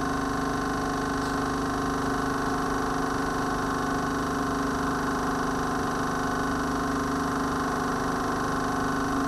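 An induction motor running unloaded during an open circuit test gives a steady electrical hum with a constant tone and faint mechanical whir, even and unchanging throughout, with no talk.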